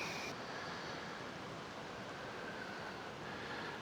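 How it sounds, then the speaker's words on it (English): Strong desert wind in open Idaho country near a creek, a constant broad roar battering the microphone with no voices and no letup. "that wind is howling across the desert"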